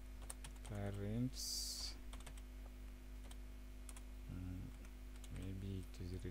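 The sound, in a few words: typing a letter on a computer keyboard in MS Word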